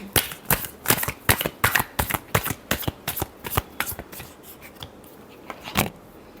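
Tarot cards riffle-shuffled up close, a rapid run of crisp, loud flutters in quick succession that slows into a few scattered snaps near the end.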